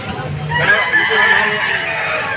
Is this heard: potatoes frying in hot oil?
no